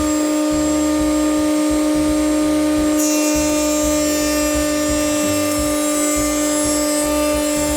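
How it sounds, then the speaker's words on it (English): A Triton TRA001 router mounted in a router table runs alongside a dust extractor, a loud continuous high whine with steady tonal hum, rising sharply in pitch partway through and then holding steady. "Router on."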